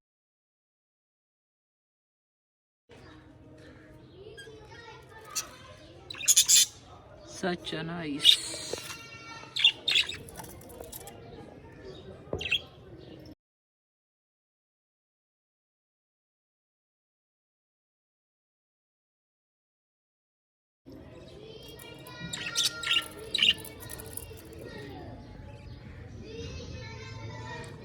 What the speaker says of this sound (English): Wow, blue parrot.